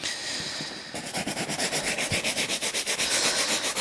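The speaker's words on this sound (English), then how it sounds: "I like a brush because it gets underneath all these sort of plastic bits and stuff like that" Brush scrubbing a leather motorcycle suit, working over plastic armour pieces, seams and stretch panels: close, even back-and-forth rasping strokes in a quick steady rhythm, nothing else heard.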